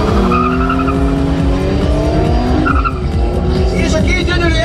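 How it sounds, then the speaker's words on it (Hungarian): BMW E30 cars, a 328 and a 325, skid with loud tire squeal at an airfield speed festival. Engines roar up close and the squeal sweeps in pitch, the whole clip staying loud and continuous. "Jönnek a nagyon patika, gyönyörű E30-as BMW. Az egyik 328-as, másik 325-ös."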